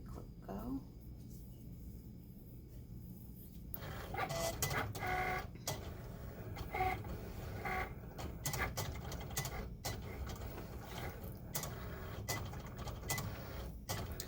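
A Cricut cutting machine cuts heat transfer vinyl for a canvas, with a steady mechanical whirring and a rapid irregular clicking and ticking carriage motion that begins a few seconds in and continues throughout.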